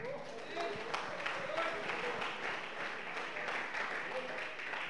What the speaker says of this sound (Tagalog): Palakpak ang Ginoo.